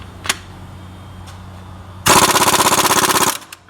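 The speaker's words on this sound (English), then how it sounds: "Regular socket and the IR impact gun." An Ingersoll Rand air impact gun with a regular socket on a Honda harmonic balancer bolt fires a loud, close burst of rapid hammering for just over a second, after a few isolated clicks and hiss beforehand.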